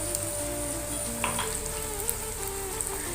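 Ground cumin and coriander powder frying in oil for a mutton-with-curd dish, giving a steady soft sizzle with faint crackles, close and fairly quiet, with no talking.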